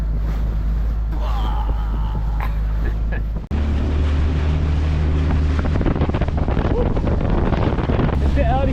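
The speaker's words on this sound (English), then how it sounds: "It's a bit early for wind, isn't it?" Wind blows hard across the microphone at a marina, a loud buffeting roar that strengthens midway and continues with gusty surges.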